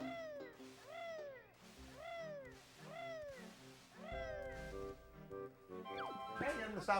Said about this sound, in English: Hey, you're gonna stop meowing.